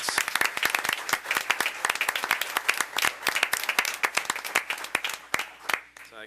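Dense, steady applause from an audience at a town board meeting, honoring public servants, with many hands clapping loudly and continuously before it tapers off at the end.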